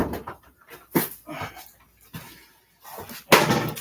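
Dog whimpering and panting indoors, soft breathy pants and faint whines in irregular bursts with a few louder knocks or movement sounds, close and fairly quiet.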